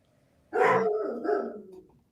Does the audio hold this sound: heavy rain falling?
no